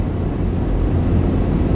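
A cheap £200 used car's engine drones while driving, held below 3,000 revs with a diesel-like feel; a steady low hum continues without a break, wind noise mixed in, and nobody speaks.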